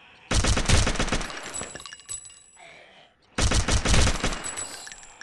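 Two long bursts of rapid automatic gunfire in Gun Builder ELITE 2.0 zombie mode, loud and close with a sharp metallic ring, separated by a brief lull of clinks and faint shuffling.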